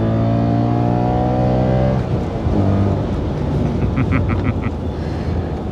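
Inside a BMW E92 M3, the engine revs high toward 8,600 RPM with a loud harmonic wail for about two seconds, then drops off into rougher, lower engine rumble with a brief chirping sound near the end.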